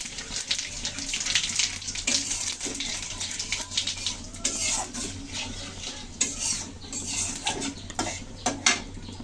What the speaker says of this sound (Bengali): তেল গরম হয়েছে এখন ফোড়নে দিয়ে দিচ্ছি জিরা তেজপাতা আর শুকনো লঙ্কা